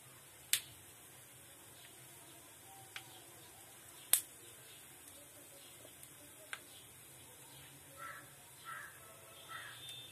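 Mustard seeds splutter in hot tempering oil: a handful of sharp, isolated pops spaced seconds apart, with softer crackles near the end over a quiet background.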